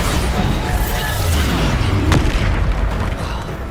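Bombarda spell explosion in the PS5 game Hogwarts Legacy: a loud, deep boom with a sharp burst near the middle, over continuous low rumbling battle noise.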